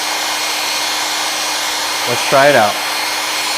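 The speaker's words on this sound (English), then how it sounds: "The fastest way to cool a children's plate, a bowl of oatmeal, is to use the cold function on the hairdryer." A hairdryer runs on its cold setting to cool a child's bowl of oatmeal, a steady broadband whoosh throughout, with a brief spoken line near the end.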